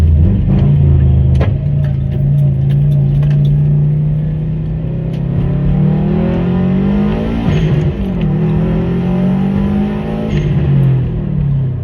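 Subaru Impreza WRX STI with an EJ257 engine on a Stage 1 tune running about 12 psi of boost, accelerating hard: a loud, close engine drone climbing steadily in pitch, easing off near the end, with no talk.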